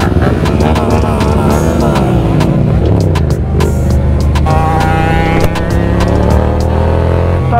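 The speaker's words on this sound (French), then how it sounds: "Ça fait vraiment un beau bruit sa moto." Motorcycle engine running loud and close, its droning tone rising and falling as the revs change, with people talking over it.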